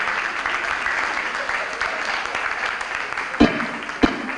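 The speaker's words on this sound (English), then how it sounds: "Keep on clapping now." Audience clapping at a training event, a steady dense patter of applause at moderate distance that carries on throughout, with two sharper knocks near the end.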